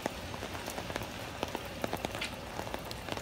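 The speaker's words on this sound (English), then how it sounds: "The rain's calming down a bit." Steady rain during a late-summer thunderstorm in New York City patters on hard surfaces close by, with many distinct drops ticking over a dense, even wash and no voices.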